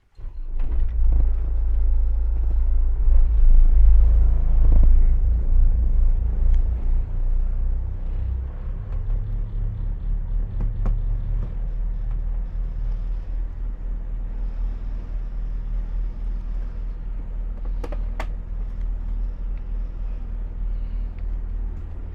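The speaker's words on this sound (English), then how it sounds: "First thing to do is fire the engines up and warm them up a bit." Boat engines fire up and settle into a warm-up, a loud deep low rumble that swells at first and then holds a steady throbbing idle, with no talk.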